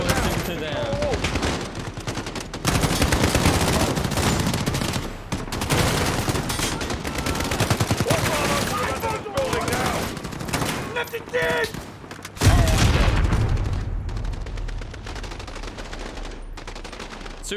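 Dense gunfire from Call of Duty: Modern Warfare during an embassy firefight, sustained overlapping rifle and machine-gun bursts with brief lulls, loud and close, with voices talking over the battle.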